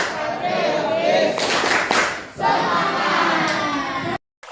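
A classroom group claps along to a rhythmic clap chant, bursts of clapping mixed with loud group voices chanting together, close and lively before cutting off abruptly.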